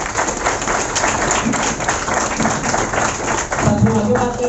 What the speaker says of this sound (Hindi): उनके लिए एक जोरदार तालियां हो जाए।